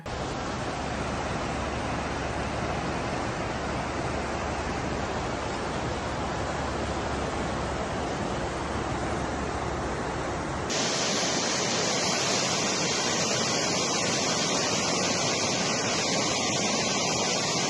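Floodwater rushes in a dense, broad roar that stays loud and continuous throughout, with a sudden change in character partway through and no voices.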